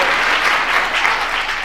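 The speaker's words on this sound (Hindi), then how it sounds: "आचार्य सोचा गुरुदेव की तालियां कंपनी में आगे से चलना।" Devotees at a Jain religious gathering in Jaipur clap together in a steady, dense round of applause, close and uninterrupted for the whole short stretch.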